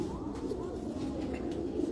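Heera Laal breed pigeons, the line of Ustad Dilawar Khan, coo in a soft low murmur that rolls on steadily throughout, fairly faint and with no talk over it.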